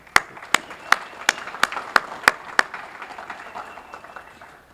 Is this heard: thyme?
no